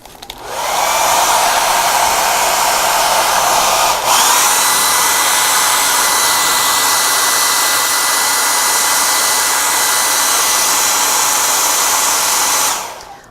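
Hair dryer blowing steadily on freshly painted watercolor paper, a loud continuous whir that starts abruptly, holds with a brief dip partway through, then cuts off, with no talking over it.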